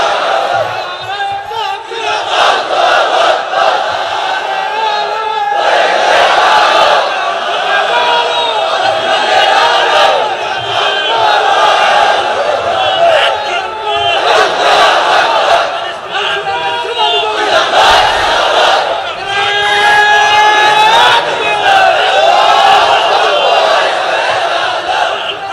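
A large crowd at a Bangla Islamic sermon gathering chants the takbir in unison, loud sustained collective voices rising and falling in repeated waves for the whole stretch.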